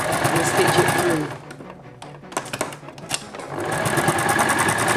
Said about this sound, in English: sew this bit on the sewing machine